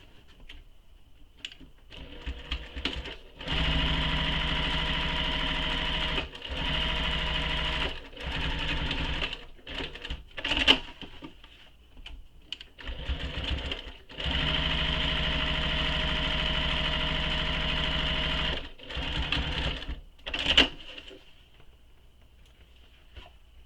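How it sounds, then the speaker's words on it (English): A sewing machine runs in several long bursts, top stitching both edges of a slip pocket trim, each steady mechanical whir broken by short pauses and quieter clicks and handling sounds between runs. "So we're going to top stitch both those edges."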